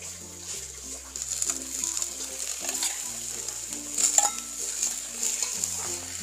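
Chicken meat goes into a pan of light golden-brown onions for chicken pulao and is stirred. A soft, continuous sizzle runs with intermittent scrapes and clinks of a spatula against the pan, fairly quiet and close.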